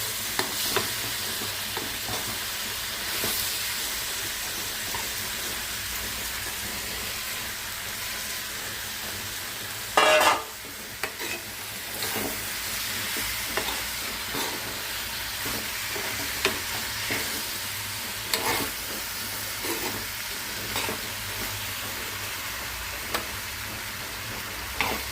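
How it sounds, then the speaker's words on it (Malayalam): Pineapple pieces for pickle are stirred in a hot pan, a steady sizzle and frying hiss throughout with repeated scraping stir strokes and one louder clatter partway through, close and without speech. "അതിലേക്ക് പൈനാപ്പിൾ ഇട്ട് നന്നായിട്ട് ഇളക്കുക."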